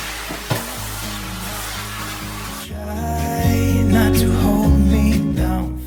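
A vacuum cleaner running across a kitchen floor gives a loud, steady motor whine and airy rush whose pitch shifts as it moves, continuous throughout.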